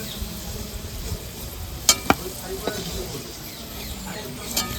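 Potatoes frying in hot oil, a continuous soft crackling sizzle up close, broken by a couple of sharp metallic taps of a spatula against the pan.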